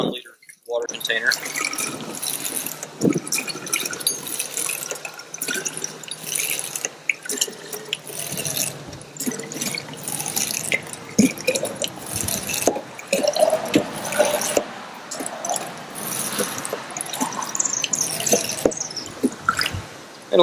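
Filtered water streams and splashes into a 1-liter container from a Clearly Filtered portable pump, a continuous pouring and trickling that runs throughout with soft knocks, while a person talks over it.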